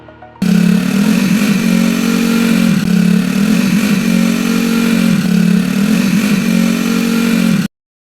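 A motorcycle engine drones loudly and steadily close up, holding a high rev with slight rhythmic wavering, no voices, then cutting off abruptly.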